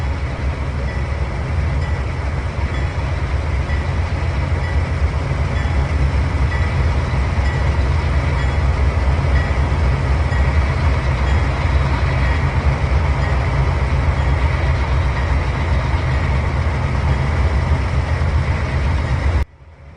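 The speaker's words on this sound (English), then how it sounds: "our engineer Donald will be bringing this CSX grain train into the yard here" A CSX grain train rolls into a rail yard in the Trainz 2019 simulator, giving a steady loud rumble of locomotive and wagons that holds unchanged throughout, then cuts off at the end.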